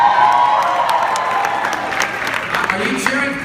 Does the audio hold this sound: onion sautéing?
no